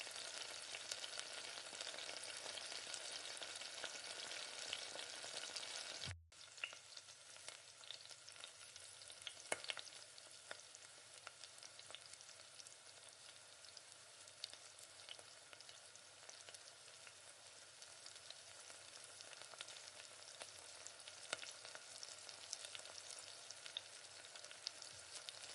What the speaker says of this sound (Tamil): வெங்காயம் சேர்த்து நல்லா வதக்கணும். 2 பச்சை மிளகாயும் இது கூட சேர்த்துட்டு நல்லா வதக்கிக்கோங்க.